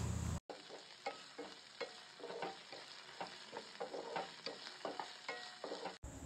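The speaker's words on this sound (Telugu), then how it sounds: "ఒక స్పూన్ జీలకర్ర వేసి బాగా వేయించండి" Green chillies, garlic and cumin seeds frying in oil in a pan for an okra chutney, a continuous soft sizzle with repeated scraping stirs, close and moderately quiet.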